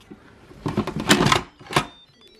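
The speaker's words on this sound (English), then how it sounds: "we're going to get our lid on." A pressure cooker lid is set in place and twisted shut over a soup of chicken and carrots, giving a series of clattering metallic clicks and rattles followed by a final latch clack, close and alone.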